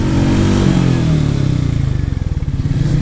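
Royal Enfield Meteor 350 motorcycle engine heard while riding, a loud steady thumping single-cylinder drone that settles into a distinct pulsing beat toward the end.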